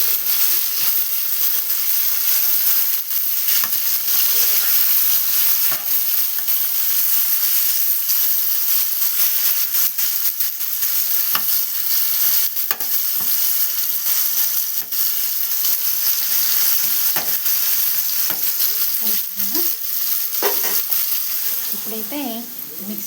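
Food stirred in a pan while it cooks down, a continuous sizzling hiss with occasional scraping and clinking, with a voice talking faintly underneath.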